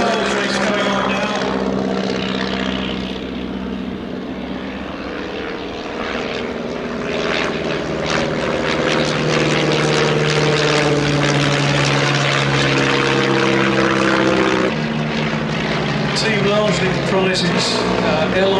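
Stampe SV4 biplanes of a formation flying team drone overhead with steady propeller engine noise, holding loud and continuous throughout while a commentator talks over it.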